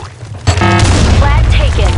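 A grenade in the shooter game Blackshot detonates in one loud, close blast that leaves a deep rumble trailing under a shouted voice line.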